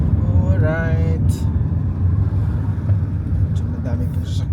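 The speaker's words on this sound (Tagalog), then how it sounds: "so madami pong sasakyan ngayon" Road traffic in New Zealand rumbles steadily as cars pass nearby, a continuous low engine and tire roar with someone talking over it.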